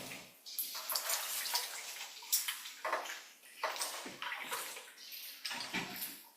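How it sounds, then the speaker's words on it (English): Peppers, asparagus and green beans are stirred by hand in a bowl of water with baking soda, giving soft, irregular sloshing and splashing that rises and falls in quick waves, faint and close, without speech. "I'm mixing all the peppers, all the asparagus, all the green beans. Mixing all of them."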